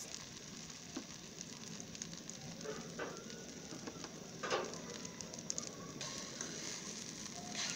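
Egg mixture spread thin in a pan like an omelette sizzles and crackles softly and continuously, with scattered pops and the odd scrape of a utensil.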